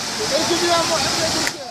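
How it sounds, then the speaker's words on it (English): Floodwater and mud surge through the Oued Alatli during severe flooding. A loud, continuous broadband roar of rushing water fills the scene, with a voice talking over it. "The Oued Alatli is experiencing severe flooding with a massive flow of water and mud surging"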